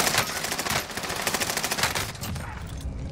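Video game gunfire, a rapid automatic burst of loud, closely spaced shots running almost continuously, with a brief tail at the end.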